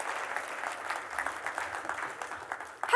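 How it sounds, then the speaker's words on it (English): An audience applauds a volunteer at a gathering, steady moderate clapping spread across the room and holding evenly for a few seconds before a louder sound at the end. "give her an applause"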